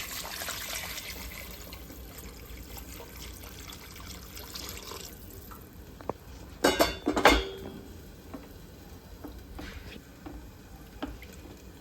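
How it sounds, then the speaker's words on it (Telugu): Water is poured into a pan of corn upma on the stove in a short splashing burst, with faint clinks of utensils and a low kitchen background before and after. "ఇందులో నేను వాటర్ యాడ్ చేసేసుకుంటున్నాను"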